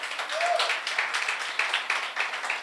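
A church congregation applauds steadily, a dense wash of many hands clapping at an even level for a few seconds with no voices.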